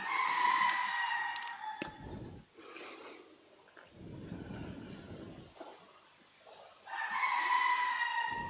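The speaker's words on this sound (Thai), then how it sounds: "ไก่เยอะนะลองกัน รอบทิศทาง" Chickens cluck and a rooster crows at a temple in the cool evening, calls arriving from several directions; the loud crowing comes in two bursts near the start and the end, with softer clucking and rustling in between.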